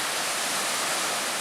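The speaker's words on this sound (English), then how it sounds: "Look at those waves still coming in." Lake Superior waves washing onto the shore at a backpacking campsite, a steady broadband wash of water without distinct breaks, fairly quiet and unbroken.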